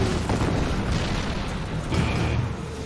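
Artillery fire on a battlefield where a Canadian advance faces German guns comes through as a dense, heavy low rumble of booms that swells near the end, with no voices.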